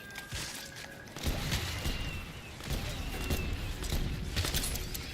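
Hand cannon shots crack out in Black Ops 6 Zombies at Liberty Falls, several fairly quiet, spaced blasts over busy game ambience and clatter.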